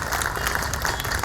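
Brief, dense applause from an audience at a religious speech, many hands clapping at once in a short, steady burst.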